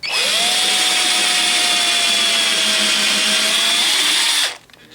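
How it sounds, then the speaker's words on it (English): An electric drill whirs at a steady high pitch for about four seconds, boring through the center hole of a sharpening lever, its tone sagging slightly under load, then stops abruptly. "Drill down until the tape is about level with the top of the bracket there."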